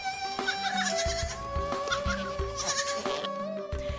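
Goats bleating repeatedly at a Nepali goat farm in Thoksila, several overlapping calls in quick succession, close and fairly loud over steady farmyard noise.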